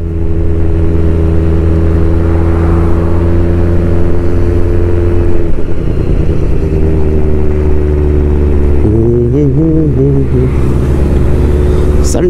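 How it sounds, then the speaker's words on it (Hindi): A Benelli TRK 502 adventure motorcycle overtakes on a Sunday ride, its exhaust giving a steady loud engine drone that swells and shifts pitch as it passes close by, with a rising rev near the end. "ये TRK हमें ओवरटेक करके जाती हुई एग्जॉस्ट की साउंड यस सुनने को मिल रही होगी आपको"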